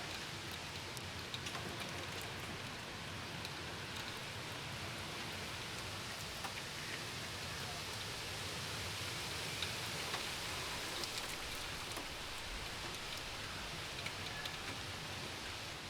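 Rain from a summer storm falls steadily as a dense, even hiss of drops on surfaces, moderately quiet and unbroken for the whole stretch, with no voices.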